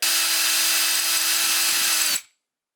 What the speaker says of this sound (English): should hold it in place enough for me to drill my guide holes